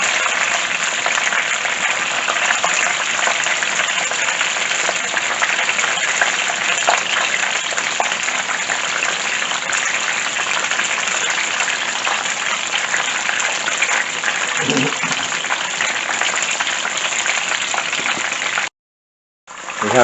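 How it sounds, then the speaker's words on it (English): Korean-style chicken frying in hot oil gives a steady, dense sizzle and bubbling hiss that holds evenly and fairly loud close by, cutting out briefly near the end. "We have just about 2 more minutes to go for the first 12-minute fry."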